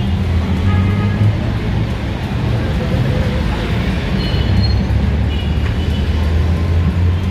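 Steady urban traffic rumble in front of Monumento LRT Station, with a Victory Liner bus among the vehicles; continuous low engine drone and road noise, close and fairly loud throughout, with a faint voice mixed in.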